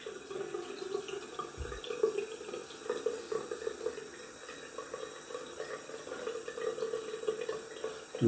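Cold water runs steadily from a bathroom tap for rinsing after a wet shave with a vintage Gillette safety razor, a soft continuous splashing stream heard close and alone.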